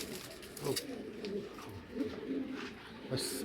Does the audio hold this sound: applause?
no